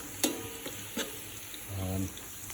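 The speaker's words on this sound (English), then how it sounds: "the onions took about 5 minutes to cook. You don't have to cook it on too high. Medium heat is fine." Onions fry over medium heat in a pot for beef curry, giving a quiet, low sizzle with a few light knocks of a spoon against the pot, heard close and alone.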